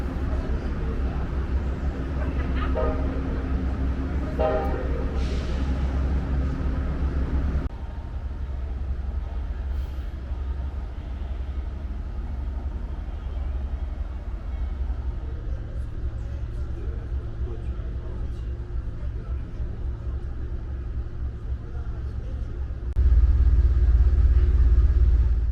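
An Amtrak Adirondack southbound passenger train pulls out of a station, a low steady rumble of engine and rolling wheels that deepens and grows louder near the end, with someone talking over it early on.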